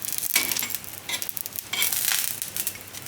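Mug bread toast fries in oil in a pan with a steady close sizzle, broken by louder crackling bursts and soft scraping as the pieces are turned and stirred.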